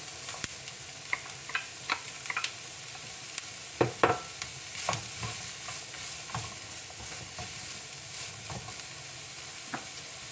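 Ground meat and green pepper sizzle in a frying pan as a utensil stirs and scrapes through them, with soft clicks and taps over a constant frying hiss, close and with no talk.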